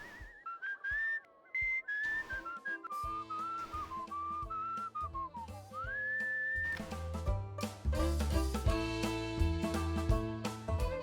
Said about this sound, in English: Whistle slightly off key.